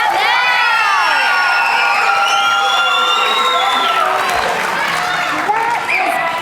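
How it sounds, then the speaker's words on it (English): Children's school-play audience at Chatsworth Hills Academy cheering, whooping and clapping loudly and continuously for the winner, a dense crowd sound with high excited shouts over steady applause. "Charlie Bucket, the winner. Clap now!"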